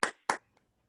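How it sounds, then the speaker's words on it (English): Two sharp hand claps close together, then a faint third tap, near and dry, at a virtual donor recognition ceremony, with no crowd behind them. "So let's give them a round of applause."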